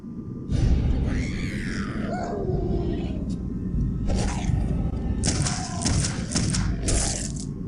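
Howler enemies in the horror video game Clive Barker's Undying: eerie creature howls and wails with sliding pitch, separated by thuds and cracking bursts over a low rumbling backdrop, loud and close, with no talking.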